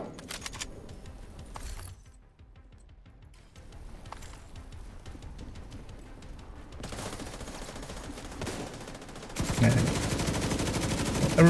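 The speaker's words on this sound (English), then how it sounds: "Everybody's shooting everything else, and I'm just gonna shoot the server." Shooter gunfire from a multiplayer match: scattered sharp shots and bursts, a quieter lull, then rapid dense firing building to a loud sustained barrage near the end, with no voices.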